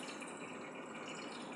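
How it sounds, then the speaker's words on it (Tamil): Running water splashes steadily over karunai kizhangu (pidi karunai yam) as it is rinsed of soil, a continuous broadband wash with no pauses and no talking. "இதில் ரொம்ப மண் இருக்கும், அதனால் நல்லா கழுவிட்டு இதை எடுத்து வச்சுக்கோங்க"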